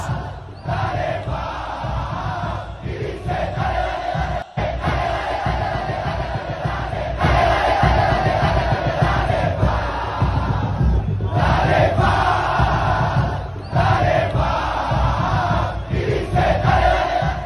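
Roaring crowd at Estadio Cuscatlán cheering and chanting after a championship win, a sustained wall of voices swelling louder at times, distant and reverberant.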